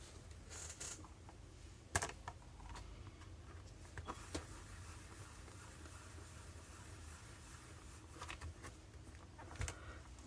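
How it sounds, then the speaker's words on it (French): Rubber stamps inked with black Versafine pressed onto colored paper for an Easter card, giving a few sharp, close taps at scattered moments over a quiet room background. "je vais tamponner donc sur mon papier coloré"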